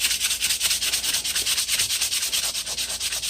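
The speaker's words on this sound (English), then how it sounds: "just gonna keep on sanding." Close, brisk sanding on a wooden handle, the gritty rasp pulsing in quick, regular back-and-forth strokes with no voices.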